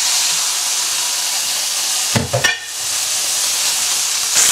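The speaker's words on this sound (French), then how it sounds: "Maintenant que la poêle elle est bien chaude, on peut y introduire le steak." A steak is laid into a very hot frying pan, giving a sudden burst of spitting and crackling over a steady background hiss, then a sustained sizzle; close and without talk.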